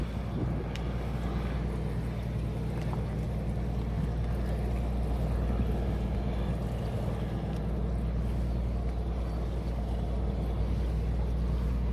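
A tugboat tows a long convoy of boats on windy water, its engine a steady low drone throughout, with wind buffeting the microphone.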